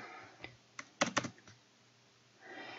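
Several quick keyboard keystrokes tapped out while entering Python code on a computer keyboard, a sparse burst of close clicks with short pauses between them, with no talking.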